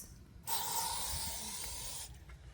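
Pest spray hisses from a can along a camper hose, a single sustained loud spray burst lasting about a second and a half before cutting off abruptly, heard close up with no talking.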